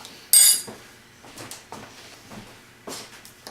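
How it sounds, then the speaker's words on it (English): A spoon scraping and scooping seeds out of a halved butternut squash, a sharp metallic clink followed by several soft, irregular scrapes and thuds, close and moderately quiet, no voices. "now we're going to go ahead and scoop out our seeds and our seeded area"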